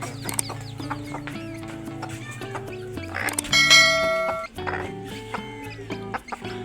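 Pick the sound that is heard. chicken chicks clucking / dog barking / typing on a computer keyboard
chicken chicks clucking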